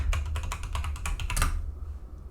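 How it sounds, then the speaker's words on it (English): A quick burst of about a dozen close, crisp keystrokes on a computer keyboard as a password is typed in, stopping abruptly into silence. "And then I type the password for my account because my account has permissions to use sudo."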